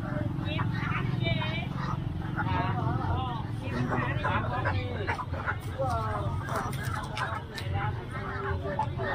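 Chickens cluck and squawk at a busy rural market day in Phục Hòa, Cao Bằng, heard close amid constant crowd chatter and people talking nearby.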